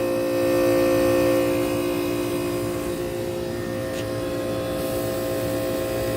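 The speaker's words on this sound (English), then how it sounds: "As a Copeland reciprocating compressor." An outdoor air conditioner with a Copeland reciprocating compressor runs close by with a steady humming drone, layered tonal whine and a broad fan rush, constant throughout.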